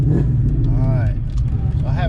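A tuned 1996-2004 Ford Mustang pulls away with a deep, loud engine rumble and rising revs from inside the car, while people talk over it.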